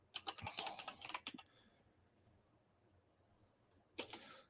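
Quick bursts of keystrokes on a computer keyboard, a rapid run of close clicks that stops, a quiet gap, then a short final flurry, with no talking.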